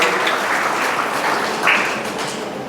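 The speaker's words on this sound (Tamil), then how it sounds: "இதுக்கு நீங்கள் ஒரு நல்ல கைதட்டு கொடுக்கலாமே" A crowd at a Tamil-language speaking event gives a short burst of applause, a continuous dense clatter of many hands that swells slightly near the end, loud and close, with no talk over it.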